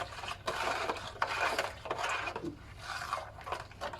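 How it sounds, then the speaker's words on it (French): Floor cleaner mixture being stirred in water, heard as repeated close scraping and rubbing strokes against a container in an uneven rhythm, without any talk. "il faut bien mélanger"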